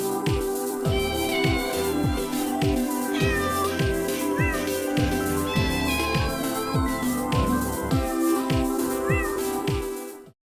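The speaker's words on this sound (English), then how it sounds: "Can we get a little cat meow?" A white-coated cat meows repeatedly in short, rising calls over a steady, busy musical backdrop with rhythmic low beats, loud and continuous throughout before ending abruptly.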